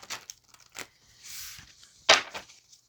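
A deck of tarot cards is shuffled by hand on camera: a few soft riffling and slapping bursts with quiet gaps, one sharper snap near the end, close and faint, without any voice.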